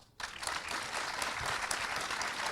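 An audience at a live show in a Lorient cinema breaks into sustained applause, which starts suddenly after a brief quiet moment and then holds full and steady with some cheering mixed in.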